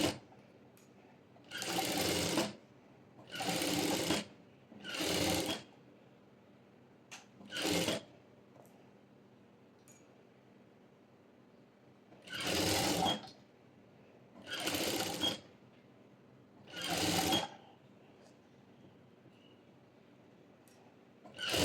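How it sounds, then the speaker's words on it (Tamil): A sewing machine stitching a half-inch sleeve seam runs in seven distinct bursts of a few seconds each, close and loud, separated by quiet pauses while the fabric is turned. "இப்போது இதில் நான் வந்து 1/2 இன்ச்சுக்கு ஸ்டிச் போட்டு டர்ன் பண்ணி எடுத்துக்கிறேன்."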